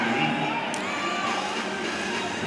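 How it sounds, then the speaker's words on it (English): A stadium crowd at a professional women's volleyball playoff match cheers loudly and steadily, a dense wash of many voices with shouts and whoops rising out of the roar throughout. "And Atlanta is cheering."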